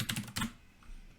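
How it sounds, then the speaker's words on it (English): Quick keystrokes on a computer keyboard while typing a web search, a short cluster of crisp clicks followed by a quieter pause, close and clear with no voices. "And you type in what it is you need to type in."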